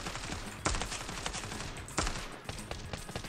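Gunfire in the video game CS:GO: rapid automatic bursts rattle on steadily at fairly low level, with two sharper, louder shots standing out.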